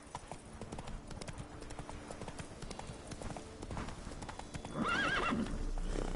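Roach the horse gallops in The Witcher 3, with rapid steady hoofbeats throughout, followed by a loud neigh toward the end; faint speech sits in the background.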